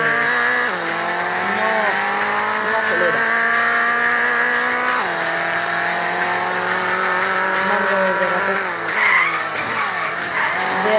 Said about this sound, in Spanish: Derrape, este tipo de derrape es que me gustan a mí.